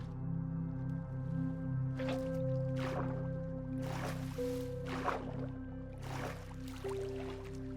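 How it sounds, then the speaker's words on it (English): Water poured from a bucket in Minecraft, a few soft splashing and gurgling bursts over a steady ambient music drone, with no talking. "And I think I'll just drop a water bucket right here."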